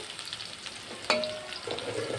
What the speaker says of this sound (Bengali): এখন আমি পেঁয়াজটাকে একটু বাদামি করে ভেজে নেব